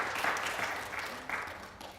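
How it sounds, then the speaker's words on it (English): An audience claps for a speaker at a student panel discussion on fracking and federal food and farm policy, steady applause from a crowd filling the room for about two seconds. "You can clap for her, guys."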